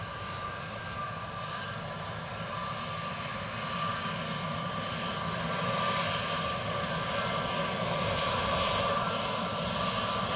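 An airplane lands on runway 28 left at Dublin Airport, its engines a broad steady roar that swells slightly as it nears, heard alone without talk.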